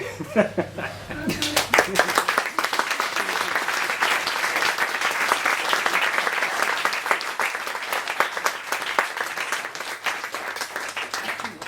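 A studio audience applauding the Marx Brothers on a radio show, loud dense clapping with some laughter that swells after a brief opening and carries steadily to the end.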